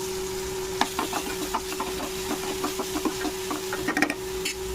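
A spatula scrapes and clicks in a pan as Maggi masala is stirred into sautéed tomatoes and chillies, giving irregular close taps over a low steady hum and a faint sizzle.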